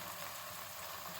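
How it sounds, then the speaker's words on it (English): Spice paste spluttering in hot oil while making chhole, a quiet steady hiss and sizzle that stays even and continuous, heard alone without voices. "We have put the oil. Now we'll put the paste. It will start to splutter"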